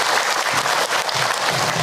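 Audience at an Islamic Ramadan sermon clapping, a dense, loud, continuous burst of applause from many hands that holds steady throughout the short stretch.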